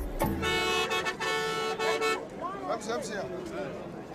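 Bus horn honking on a desert journey, a sustained tooting blast with pulsing repeats for about two seconds, close and loud, followed by crowd chatter and voices.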